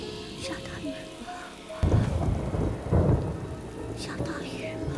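Heavy rain falls steadily while thunder booms twice in deep rumbling surges, loud and close, over the continuous hiss of rainfall, with faint tonal music-like sounds at the edges.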